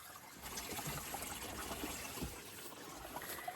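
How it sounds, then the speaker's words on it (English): Water trickles and gushes steadily into the hull of a mini jet boat on a remote river, a continuous close-up wash of splashing and dribbling with no talk. "Can you hear the water pouring in?"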